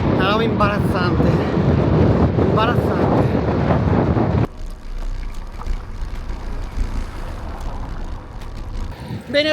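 Strong headwind buffets the microphone on a ride out near Valdobbiadene, a loud continuous low rumble that carries on after a person stops speaking partway through.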